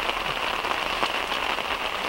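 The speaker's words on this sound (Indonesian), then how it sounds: "Jadi di sini tuh masih hujan" Rain falling steadily, a dense close patter of drops on surfaces that holds even and unbroken throughout, with no voices.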